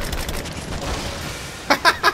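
Gunfire in the Rise of the Tomb Raider video game, during a prison break: three sharp shots crack in quick succession near the end, following a stretch of quiet, murky ambience.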